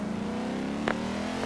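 Twin V8 engine of a 2015 Volvo S60 Polestar drift build in Forza Horizon 2, droning at a steady high rev, loud and close, with a brief sharp blip near the end.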